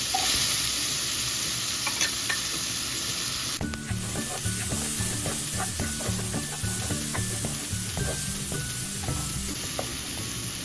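Garlic and onion sautéing in cooking oil in a pan, with a steady sizzle that jumps louder as more goes in, followed by rhythmic scraping and stirring strokes that carry on to the end.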